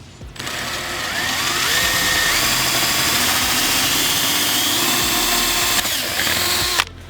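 A power drill runs steadily while boring a pilot hole in a 2013 Mustang GT, its motor whine sustained and close for about six seconds before cutting off.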